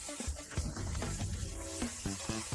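Sautéing in a pan for a pasta sauce with meatballs and finely chopped anchovy: a soft, continuous sizzle and hiss under quiet low-level background sound, close and fairly faint.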